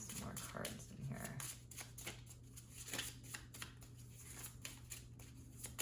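Tarot cards shuffled by hand in soft, continuous riffling and sliding bursts, moderately close, over a steady low hum with faint talk in the background.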